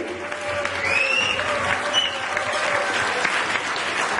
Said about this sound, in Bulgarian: Силни аплодисменти!